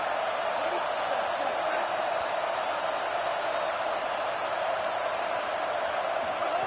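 A stadium crowd at a college football game sends up a steady, distant roar on a big third down, a continuous wash of cheering with no distinct claps or breaks.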